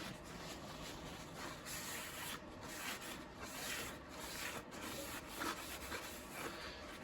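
Cloth wiping excess cleaner off the rusty cutter head of an AW2206 planer, a faint continuous rubbing scrape with small uneven surges, alone and fairly close.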